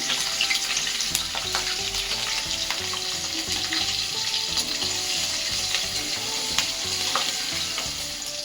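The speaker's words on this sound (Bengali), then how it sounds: "প্রথমে লঙ্কাটা আমি তেলের মধ্যে ছেড়ে দিলাম।" Green chilies fry in hot oil with a dense, loud, continuous sizzle and crackle, close by, with occasional stirring sounds and no talking.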